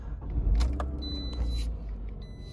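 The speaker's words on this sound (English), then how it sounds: "Let me start it up and you're gonna see all the warning lights turn on and turn off as they should." A 2010 Toyota RAV4 LE AWD engine cranks and catches, settling into a steady close idle rumble with a faint electronic chime, and no talking.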